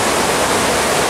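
Heavy rainstorm water pouring down and flooding a backyard beside a patio, a loud, steady broadband roar like a downpour or waterfall, close and continuous with no voices.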